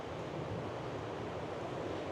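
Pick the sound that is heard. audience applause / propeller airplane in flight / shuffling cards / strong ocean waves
strong ocean waves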